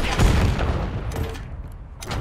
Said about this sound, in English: Tossing frag.